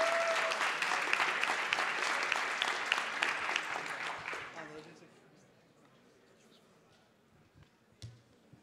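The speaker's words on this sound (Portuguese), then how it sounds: "Salve de palmas para ele" An audience applauds the next team from Belo Horizonte, Diagnóstico Público, at the Brasil Conferência HackBrazil event: loud, dense clapping for about four and a half seconds, then fading out to quiet room tone with a brief bump near the end.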